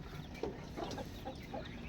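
Chickens clucking in a rural Filipino yard, short soft clucks repeating under a steady hum of outdoor background noise, fairly faint and without talk.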